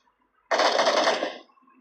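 Video game gunfire: one loud automatic burst starts abruptly and rattles on for about a second before tailing off, set against near silence.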